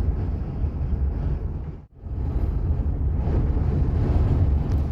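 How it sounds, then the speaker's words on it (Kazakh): Strong wind in Taraz, Kazakhstan roars and buffets steadily, with a brief lull near the start before the gusting resumes. "Қатты жел болып жатыр бізде де."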